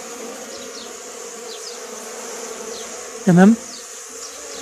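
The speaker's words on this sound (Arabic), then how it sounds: "شايفين أنتوا إزعاج النحل" Honeybees buzz at a hive during varroa treatment, a faint continuous hum under the scene, broken by a brief louder buzz of a single bee passing close; someone speaks a single word.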